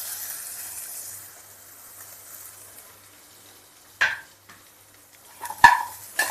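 Onion dropped into hot oil in a pan with garlic for millet khichdi, a quiet hiss followed by sharp sizzling bursts and a few stirring clatters near the end.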